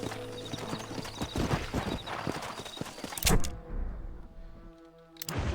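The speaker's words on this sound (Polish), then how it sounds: "No i mamy tego konia. To jest biały ogier." Hooves of a white stallion clip-clop steadily in the Mexico setting of the video game Red Dead Redemption, mixed with game ambience and a brief whinny-like burst, mid-loud and fairly close.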